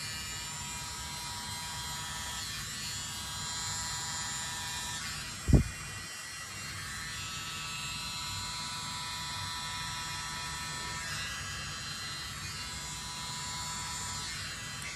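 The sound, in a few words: electric blower blowing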